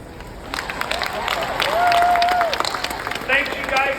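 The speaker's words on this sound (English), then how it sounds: "They deserve a huge round of applause." Applause rises from a large audience at a corporate family reunion event and rolls on steadily as a loud wash of clapping, with a few shouts and crowd noise mixed in.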